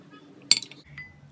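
A spoon clinks briefly against a small bowl while licorice powder and another powder are mixed for a homemade night cream, a short burst of light scraping and tapping, close and quiet.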